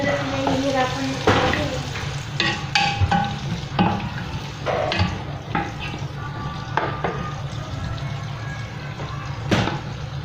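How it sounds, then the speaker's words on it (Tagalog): Onion and garlic sauté in butter and oil in a pan, a steady close sizzle broken by repeated clinks and scrapes of stirring, with a person talking faintly in the background. "ginigisa na natin yung sibuyas at bawang"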